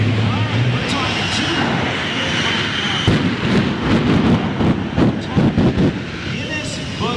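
Shockwave jet truck, a Guinness-certified record holder at 376 mph, roars with a loud, continuous jet engine rumble and broadband blast, punctuated by sharp popping bursts, while people talk over it.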